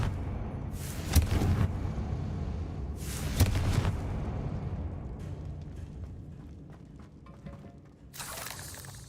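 Confringo fire spell from Hogwarts Legacy, heard as two loud explosive bursts a couple of seconds apart over a steady rumbling game background, then a softer crackle near the end.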